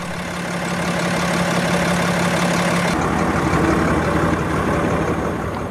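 A 2009 Peterbilt 340 truck with a Paccar 8.3 liter PX8 engine idling, a steady loud low diesel rumble heard close up, with a slight shift in tone halfway through.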